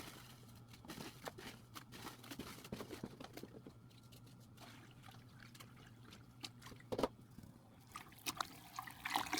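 Water and brown cardboard stirred by hand in a bucket give quiet sloshing, dripping and trickling sounds in irregular bursts, faint and close.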